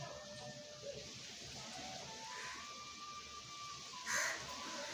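A crow caws outdoors: a few fairly quiet calls over a soft background hiss, with one louder, harsher caw near the end.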